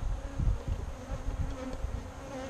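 Agitated Saskatraz honey bees buzz steadily around a hive two weeks after package install, a dense droning hum with fluctuating intensity and close wingbeat passes.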